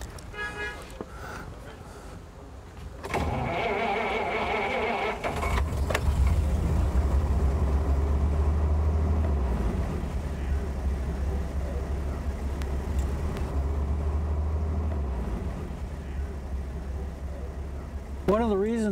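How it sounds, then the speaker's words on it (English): A 1934 Pierce-Arrow V12 with hydraulic valve lifters idles quietly, a low, steady, even hum running for about ten seconds, after a brief burst of mixed noise and faint background voices. "One of the reasons it's so quiet is because Pierce pioneered true hydraulic valve lifters in 1933, and this engine has them."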